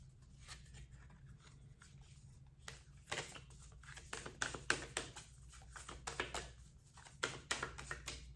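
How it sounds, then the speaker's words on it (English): A tarot card deck is shuffled close up in a quiet room. Soft, irregular riffling and tapping bursts of cards run throughout. "It's not the easiest deck to shuffle,"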